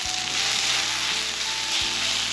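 Onions cooking down in oil on a Blackstone griddle, a loud, steady sizzle filling the whole clip.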